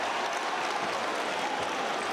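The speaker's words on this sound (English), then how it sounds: "Listen to the crowd here." A basketball arena crowd at an international qualifying game roars steadily, a dense, sustained wash of cheering and applause heard from within the stands.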